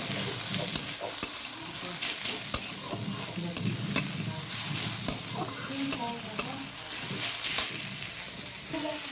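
Onion, green chili and crushed garlic fry in a pan, giving a steady sizzle throughout. Sharp scrapes and knocks of a stirring utensil come at irregular intervals, close and moderately loud.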